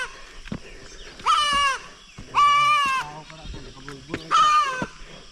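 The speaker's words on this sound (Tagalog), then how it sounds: "Napasubo yung kambing natin sa lakaran." A goat bleats three times in loud, wavering cries close by, spaced a second or so apart, with soft rustling and brief voices around them.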